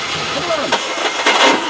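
A Range Rover engine cranks over and tries to catch on a project car with a sticky throttle pedal, giving a short, uneven churning burst that surges twice without settling into a steady idle.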